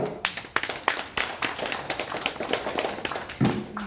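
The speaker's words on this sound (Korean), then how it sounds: "우리 하나님께 영광의 박수 올립니다" Worship congregation in a care-home Monday praise service clapping in praise to God, with sharp, uneven hand claps close by, building into a brief burst near the end.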